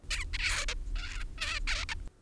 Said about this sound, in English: This is the babbling of a young zebra finch.